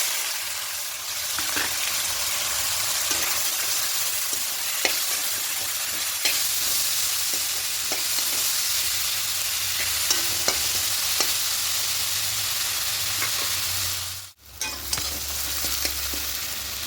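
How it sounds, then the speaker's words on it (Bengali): Chopped onion and tomato fry in a pan with spices, a steady close sizzle with scattered crackles and light stirring scrapes, pausing briefly near the end. "এবার এখানে দেবো পেঁয়াজ কুচি আর টমেটো কুচি"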